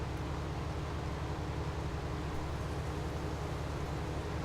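A tractor in Farming Simulator 19 drives along a road nearby, a steady low engine drone with constant rumble and hiss, no voices.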